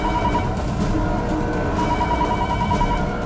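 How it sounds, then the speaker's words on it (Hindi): A home landline telephone rings in an Indian crime drama scene, sounding continuously over a dense, steady background for a few seconds with no voices. "फोन उठाइए।"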